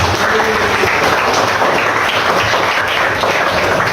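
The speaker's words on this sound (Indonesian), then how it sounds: "tepuk tangan buat dia" A classroom audience applauds a student, with continuous, even clapping from many hands, loud and close, filling the whole stretch without speech.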